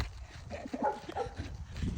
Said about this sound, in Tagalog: Grabe naman tahol ng aso ngayon.